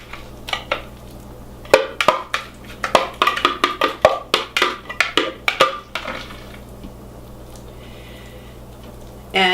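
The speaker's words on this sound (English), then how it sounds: "I'm going to pour out this frosting right onto the torte." Clinks and scrapes of a blender jar and utensils as a thick frosting is poured onto a date torte in a home kitchen, a close run of sharp taps and knocks that fades into quiet near the end.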